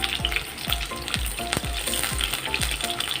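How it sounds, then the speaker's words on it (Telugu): Potatoes, onion and garlic frying in a pan, a steady loud sizzle with regular scraping stirs repeating about every half second. "ఆలు ఆనియన్ వెల్లుల్లి ఇవన్నీ ఫ్రై చేసుకోవాలి"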